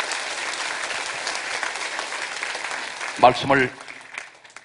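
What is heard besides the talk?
congregation applause in church service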